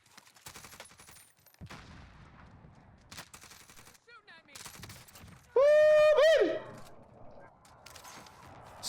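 A QBZ rifle in the Warzone video game fires in short automatic bursts between pauses, broken by a loud tonal in-game effect, while a voice talks over the gameplay.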